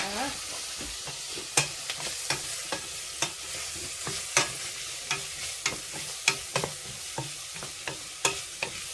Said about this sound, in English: So let me just give this a bit of a stir.